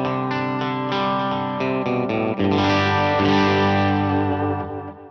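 Electric guitar played through a Veritas Mini Master effects pedal with delay and reverb, ringing chords and single notes sustaining with a lush, echoing tail, loud and close with no talking.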